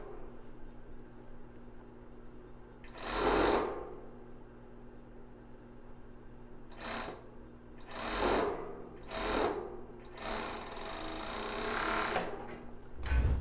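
Sewing machine stitching elastic seams on a plus-size bra, with several bursts of needle running separated by pauses and a steady low hum between them.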